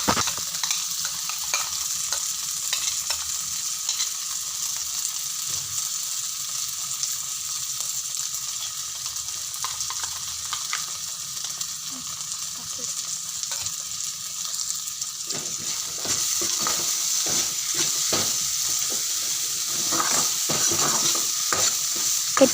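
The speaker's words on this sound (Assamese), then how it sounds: "এতিয়া ধুনীয়াকৈ মিশ্ৰণখিনি লৰাই দিম।" A paste of ginger, garlic, chili and mustard sizzles steadily in a hot pan and is stirred throughout, with a continuous frying hiss and soft scraping that grows livelier near the end, and no voices.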